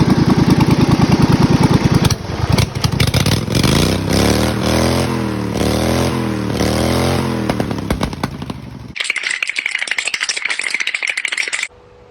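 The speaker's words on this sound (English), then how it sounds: "let's start this thing up and I'll give you guys a listen" A race lawn mower engine clatters to life and runs with a loud rattling idle, then revs up and down in several surges before settling into a steadier, higher buzzing note, all close by with no talking.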